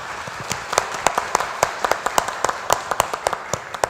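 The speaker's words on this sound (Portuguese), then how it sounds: "Queria pedir uma salva de palmas para todos os palestrantes." Applause from a seated audience at a maritime energy-transition conference, a modest crowd giving sharp, fairly sparse claps that stay steady and close for several seconds without talk.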